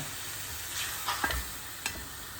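Mushrooms sauté in a pan with a soft, steady sizzle and a few light scrapes and stirs of a spatula, quiet and close with no talking.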